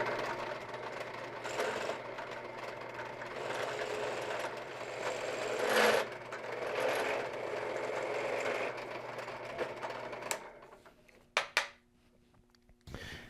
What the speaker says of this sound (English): as long as I get this countersink into the center of the hole, I'm going to let this loose a little bit and it'll find its own center